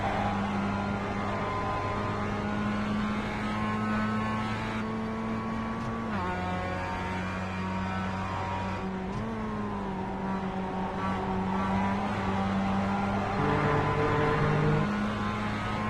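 Race cars compete on a circuit, their engines droning loudly together with steady pitches that shift as they shift gears and jostle for position, no voices over them.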